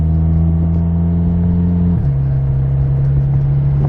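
A VW MK6 GTI fitted with upgraded motor mounts drones steadily from close inside the cabin while driving in first gear, a loud low engine hum whose pitch drops slightly partway through as the revs ease off.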